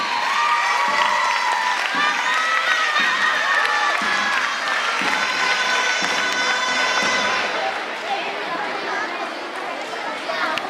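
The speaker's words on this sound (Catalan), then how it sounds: "Un fort aplaudiment." A crowd at the Pubilla and Hereu election ceremony in Anglès applauds and cheers in a loud, lively burst, with voices mixed in before the noise slowly tapers off.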